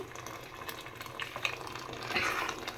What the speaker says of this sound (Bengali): এখন গরম পানি দিতেছি